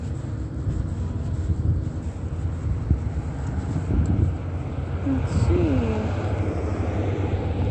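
A helicopter passes overhead above a city intersection, its engine roar steady and fairly loud throughout, with a person briefly speaking under it.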